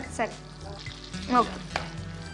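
Chopped onion pieces are dropped into a pan with hot oil and stirred, giving a quiet sizzle beneath a few clacks and scrapes of a utensil; muffled voices murmur in the background.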